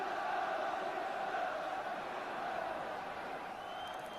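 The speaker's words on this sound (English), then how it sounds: "And the crowd are really behind them now." Football crowd at a Tottenham Hotspur v Swindon Town FA Cup replay, a steady, dense roar of cheering and shouting that carries on unbroken and fairly loud throughout, with no single voice standing out.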